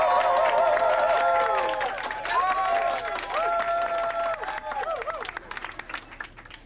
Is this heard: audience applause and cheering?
yes